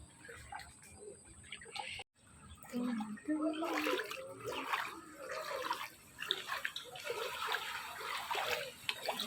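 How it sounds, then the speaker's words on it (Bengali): Feet step and slosh through floodwater around a home where water has stood for days, giving uneven splashes and swishes in a steady run after a short pause, with some faint clicking. "এই যে পা দিলাম এখন জলে জল আর কমছে না"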